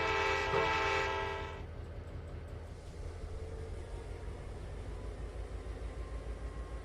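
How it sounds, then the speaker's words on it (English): A locomotive in Trainz 2019 sounds a loud horn blast over a steady rumbling rail hum, then the horn stops and the low rolling train noise continues alone. "No, I am hearing a train."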